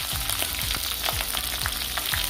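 Chilli, onion and garlic sizzling loudly in an uruli pan, a steady crackling fry with a regular, rhythmic scrape of stirring strokes about every half second, close and continuous with no talking.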